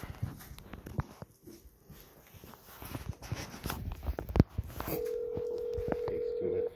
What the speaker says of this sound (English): Just gotta dial out first.